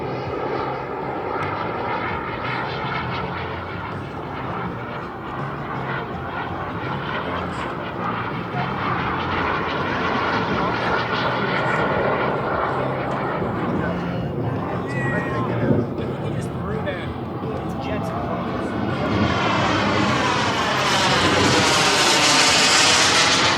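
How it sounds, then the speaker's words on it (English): A BVM 1:5 scale L-39 model jet flies overhead in a knife-edge pass. Its turbine roar is loud and steady, swelling to its strongest as it passes close near the end, with voices faintly underneath. "A nice knife edge pass from Steve so you can see the top of that airplane"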